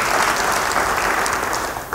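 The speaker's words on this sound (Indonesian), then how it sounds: "Yang percaya beri tepuk tangan bagi dia." A church congregation claps in a dense, steady burst of applause that fills the hall and tapers slightly at the end.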